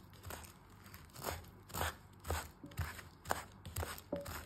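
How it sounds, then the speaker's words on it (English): Rice noodles for Vietnamese spring rolls are cut with a knife, making a steady series of close, crisp chopping thunks at an irregular rhythm, moderately quiet and with no talk. "at the end I used the knife to cut all these noodles"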